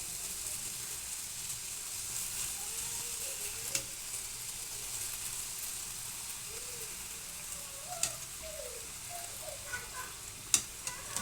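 Karjikayalu sweet dumplings fry in hot oil with a constant close sizzle and bubbling. Scattered sharp clicks and pops cut through the frying now and then.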